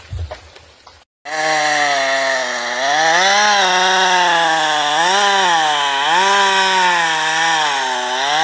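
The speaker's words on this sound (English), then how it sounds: "The sharp chainsaw screamed, its blade biting deep into the dense wood." A chainsaw screams as it bites deep into a massive, dense tree trunk in a forest, a loud sustained whine whose pitch dips and recovers as the blade loads in the wood, after a brief rustling start.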